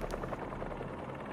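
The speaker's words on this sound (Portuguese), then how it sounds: "Uma coisa tipo... hélices de helicóptero." A low, steady thrumming helicopter rotor drone in Marvel's Spider-Man 2 with a faint pulsing beat, like blades heard from inside, continuous and fairly quiet.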